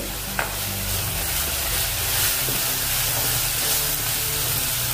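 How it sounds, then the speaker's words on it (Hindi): Tomato masala fries in oil in a kadhai with steady, close sizzling and the repeated scrape of a spoon stirring, continuous and fairly loud with no voices. "टमाटर का जो कच्चापन है वो निकलने के लिए होना, इसलिए थोड़ा सा इसको भूनेंगे"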